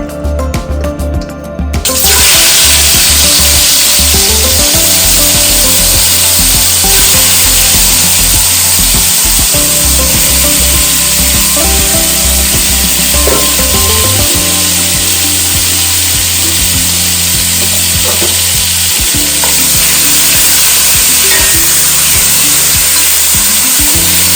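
Seasoned pork hits a hot oiled pot and sizzles loudly, a dense bright crackling hiss that starts abruptly and holds steady close up, with no one speaking.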